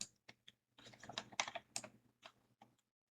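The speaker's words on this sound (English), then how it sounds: "Here you can type your signature or draw your signature" A computer keyboard clatters with quick, irregular keystrokes as a signature is typed, close and fairly quiet. The burst of presses ends in a few final taps and then silence.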